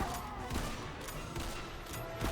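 Gunfire in the Roblox game Dead Rails, with several sharp, dense shots scattered through a busy, noisy game mix, fairly faint and steady.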